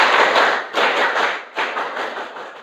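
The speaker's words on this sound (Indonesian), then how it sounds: "Kita tepuk pramuka semua ya." A classroom of students performing the Pramuka scout clap, three loud, crowded bursts of clapping in rhythmic groups, each swelling and fading before the next, close and lively.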